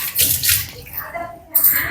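Water is scooped and filled by hand in a village, with close splashing and pouring in short uneven bursts and a brief voice nearby.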